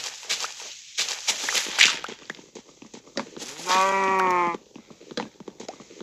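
A single Minecraft sheep bleats once in a wavering, nasal cry over a busy background of clicks and short game sound effects.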